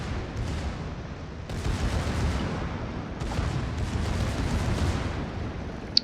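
Rapid secondary battery fire from a battleship in World of Warships, a dense, continuous rumble of overlapping gun blasts and booming impacts lasting throughout with surges every second or two.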